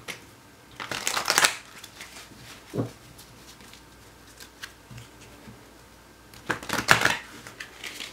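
Two rapid riffles of a tarot card shuffle, one near the start and one near the end, with soft card handling and light taps between.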